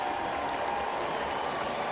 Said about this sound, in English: the Diamondbacks now on the field applauding their fans